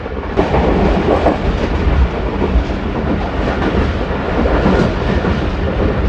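Pakistan Express passenger train running along the railway toward Rohtas Fort, a steady loud rumble and rattle of carriages heard from on board, continuous for the whole stretch with no talk.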